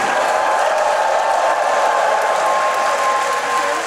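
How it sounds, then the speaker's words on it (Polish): Loud, dense applause from a festival audience at Poland Rock 2021, a continuous even roar of clapping with no break. "Wielkie brawa."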